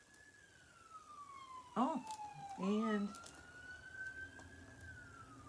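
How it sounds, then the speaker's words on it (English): An ambulance siren wails faintly outside as it passes, a long rising and falling tone, while someone speaks briefly over it indoors. "ambulance just went by."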